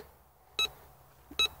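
A Nel Tornado metal detector gives two short, clear electronic beeps about a second apart as it passes over a 5 grosz coin at 31 cm, with quiet between them.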